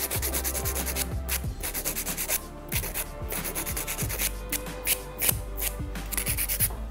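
An electric nail drill with a carbide bit files a nail, giving a continuous high whirring grind broken by short pauses and pressure changes, close and alone.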